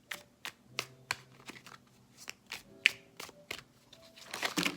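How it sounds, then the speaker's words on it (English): Tarot cards shuffled by hand in a quiet room, a string of quick riffles and soft slaps that come in uneven bursts, close and clear and getting denser near the end. "So I'm going to shuffle again"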